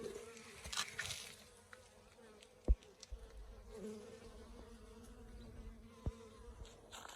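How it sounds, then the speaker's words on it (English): Soft, steady buzzing of bees hovering close by at a garden water spot in Arizona, a continuous insect drone with a few brief knocks and rustles. "this is where my bees, a lot of the bees come to water"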